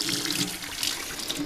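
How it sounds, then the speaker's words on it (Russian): Hot water gushing steadily from a tap fed by a homemade solar water heater at a garden plot, a continuous close splashing flow with no voices. "вот сейчас кран открою, вода будет горячая"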